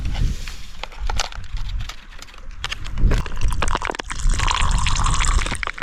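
Chocolate milk powder stirred into water outdoors in remote Swedish mountains, with sloshing, splashing and clinking bursts and a brief pouring trickle, loud and close.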